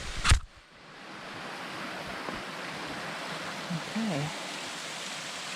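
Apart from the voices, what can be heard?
small waterfall in an ice gulch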